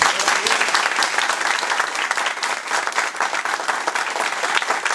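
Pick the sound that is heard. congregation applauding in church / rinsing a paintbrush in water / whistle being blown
congregation applauding in church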